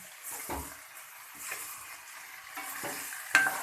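A spoon stirs grated carrot halwa (gajrela) with dry fruits in a pan. Soft scraping strokes come over a gentle sizzle, close and quiet, with a small clink near the end.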